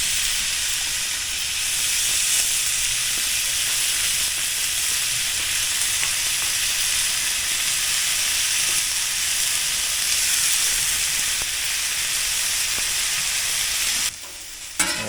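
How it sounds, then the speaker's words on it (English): Chicken sizzles loudly on a hot Traeger Flatrock griddle, a steady, dense crackling hiss that continues without pause until it cuts off near the end. "Just that sizzle when meat hits the griddle surface"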